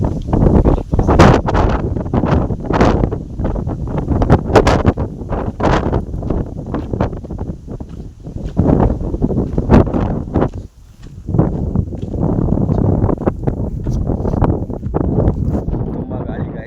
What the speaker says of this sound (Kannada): ತುಂಬ ಗಾಳಿ ಗಾಯ್ಸ್, ಏನೂ ಕೇಳಿಸ್ತಾ ಇಲ್ಲ.